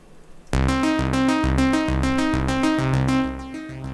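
A Van Pluck synth in FL Studio plays a bright, evenly repeating sequence of short plucked notes over a low bass pulse, loud and alone.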